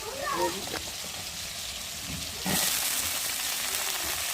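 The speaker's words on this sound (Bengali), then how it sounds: "পেঁয়াজগুলো ভেজে নিলাম, এখন বেগুনগুলা দিয়ে দিলাম।" Onions and eggplant fry in a pan over a clay stove, giving a steady, soft sizzle that runs through the whole clip and brightens partway as more vegetables go in, with a voice talking over it.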